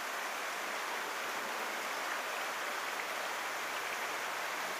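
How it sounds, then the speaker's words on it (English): Steady rain falls outside on a Sunday afternoon, a soft, even hiss with no breaks, faint and in the background with no one speaking. "Guess it's a rainy Sunday afternoon here actually."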